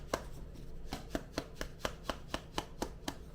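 Ground Kenyan Murang'a AA coffee shaken in a lidded Tetsu Kasuya sifter gives a steady run of about a dozen sharp, evenly spaced rattling taps, close and fairly quiet, with no voices.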